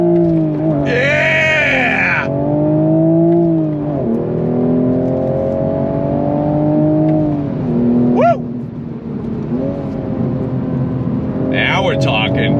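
A manual 2024 Toyota Supra 45th Anniversary Edition accelerates hard on throttle, its engine note rising and falling in steady loud sweeps with a brief shift-like dip, while a voice shouts over it.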